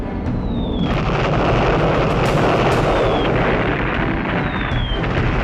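Bombs from Luftwaffe raids explode on the airfields at Croydon and West Malling, a dense, continuous rumble of blasts and booms that holds loud throughout, with faint whistling tones sliding overhead now and then.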